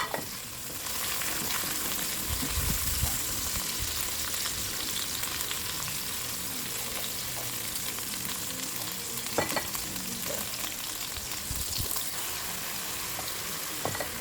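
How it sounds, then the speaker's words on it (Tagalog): Tomatoes sauté in a hot pan for pork sinigang, giving a steady close sizzle with occasional sharper spits and stirring knocks, no talking over it. "Yan, lagyan na natin ng ating kamatis."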